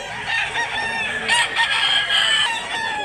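A rooster crows loudly and close by at a poultry market in Mantalungon, Cebu, one long drawn-out call, with other fowl faintly in the background.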